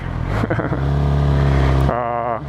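A 2013 Suzuki GSX-R600 sport bike's engine drones steadily while being ridden, loud and close, with a brief rev change near the end and some wind buffeting.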